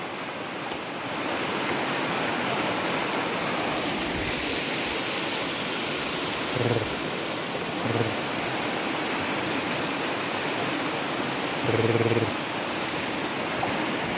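A mountain river in the Carpathians rushes in a loud, steady roar of flowing water close by, with a few faint bumps standing out briefly over the continuous wash.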